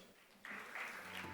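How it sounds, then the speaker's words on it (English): An audience at the OER Business Summit 2023 bursts into applause after a presentation, a soft, distant wash of clapping that swells and holds for about a second. "Please give it up for Mr. Ali. A big round of applause."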